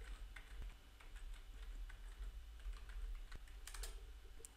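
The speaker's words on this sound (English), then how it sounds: "You must type the right username and password." Keys clatter on a computer keyboard as a username and password are entered, a quiet, uneven run of soft taps and clicks heard up close with no voices.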